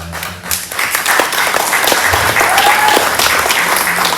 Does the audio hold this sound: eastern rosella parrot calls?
no